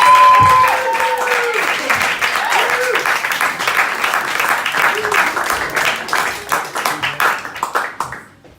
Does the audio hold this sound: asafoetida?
no